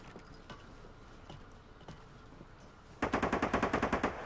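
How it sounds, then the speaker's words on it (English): Rapid automatic gunfire from the video game Arma Reforger erupts after a quiet stretch of faint footsteps and small clicks, a loud burst of about a dozen evenly spaced shots in the last second. "shots fired 120 from my location"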